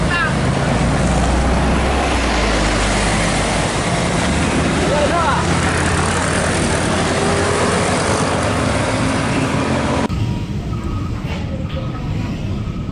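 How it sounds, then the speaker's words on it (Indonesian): Double decker bus driving into a city intersection at the Pandan traffic lights in Solo, a continuous loud engine and road rumble heard from on board, with the texture changing abruptly near the end. "bus double deckernya memasuki kawasan simpang lampu merah Pandan"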